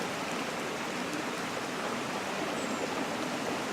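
A little water is poured onto a dehydrated compressed towel from a survival tin, making a soft, steady hiss that runs evenly throughout at low volume with no talking.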